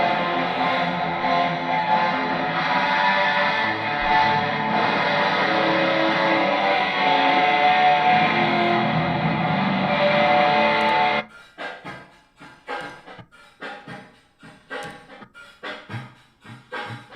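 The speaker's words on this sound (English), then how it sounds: "And then a guitar." Electric guitar run through a distortion and echo effects plugin, a thick sustained wall of driven tone for about eleven seconds, then cutting to sparse, choppy plucked notes with gaps between them.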